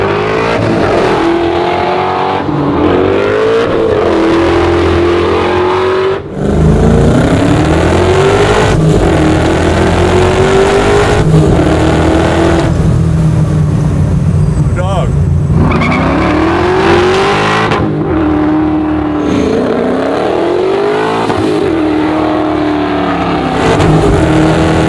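A supercharged 1969 Camaro engine roars and revs loudly and continuously, with rising and falling pitch sweeps and occasional squealing tires, while people talk over the noise.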